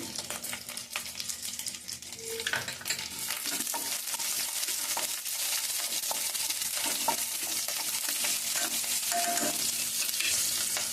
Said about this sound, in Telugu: కొద్దిగా యాగనిద్దాం పచ్చిమిరపకాయలు